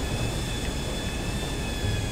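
Steady airplane engine drone from an airplane coming in to land on a runway in GTA 5, a continuous jet-like roar with faint high whine, holding level throughout with no talk.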